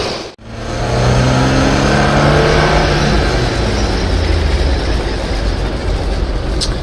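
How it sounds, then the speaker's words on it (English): A BMW 2002 tii accelerates hard in an acceleration test, its engine note rising steadily through the gears, loud and continuous from the onboard position after a brief initial dropout, with no talking. "So let's do an acceleration test in this particular car."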